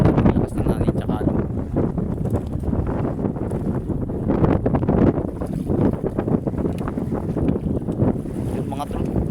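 Strong wind buffets the microphone in loud, uneven gusts, roaring over the scene with water movement around it.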